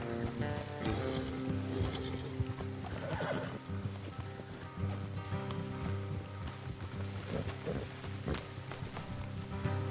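Horse hooves clip-clop steadily in Red Dead Redemption 2 over a dense game soundtrack, with occasional whinnies and snorts mixed in, continuous and fairly loud.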